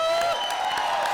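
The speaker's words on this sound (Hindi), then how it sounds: "तो इस बात पर जोरदार तालियां हो जाए।" Studio audience applause on a comedy show stage, a dense, steady wash of clapping heard alone, with a faint sustained tone running through it.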